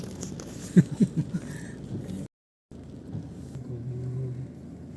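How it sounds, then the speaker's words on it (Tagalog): Steady low road traffic rumble from cars, with a few soft knocks early on, a brief dropout in the middle, then continued engine hum from vehicles passing at moderate distance. "Ayan. Traffic."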